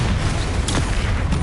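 A Confringo fire spell blast from the video game Hogwarts Legacy, heard as a loud, dense burst of broadband noise with a sharp crack partway through, amid continuous game action.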